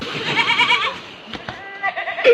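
A goat bleats loudly in a wavering, shaky cry, followed by a few shorter, softer bleats nearby.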